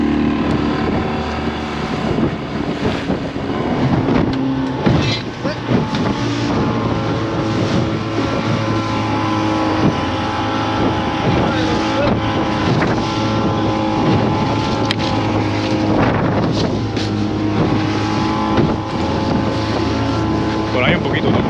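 A motorboat crossing the sea near the Darien Gap, a loud, constant engine drone with hull slaps and buffeting wind on the microphone, sustained throughout.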